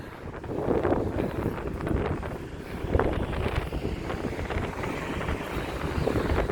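Strong outdoor wind buffets the microphone in a continuous rumbling roar with gusty surges, loud and close throughout.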